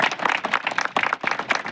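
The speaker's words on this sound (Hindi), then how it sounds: "ताली बजाइए इनके लिए, बहुत अच्छा किया आपने।" A small group of paramedical trainees claps briefly after finishing a stretcher-carrying drill in disaster-safety training. The clapping is close and uneven, in short bursts.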